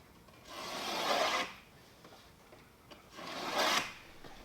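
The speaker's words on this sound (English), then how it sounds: "take a razor blade and give yourself a couple of swipes through the veneer" A razor blade drawn across wood veneer in two slow rasping swipes, each about a second long with a pause between, close and clear with no talk.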